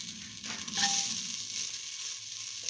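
Ginger frying in a pan for a mint okra potato stew, a continuous close sizzle with a brief louder crackle burst near the start, no talk.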